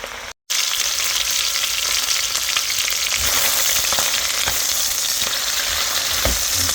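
Chicken with papaya and pechay stir-frying in a pan gives a loud, steady sizzle with occasional scraping stirs, close and continuous, with no voices over it.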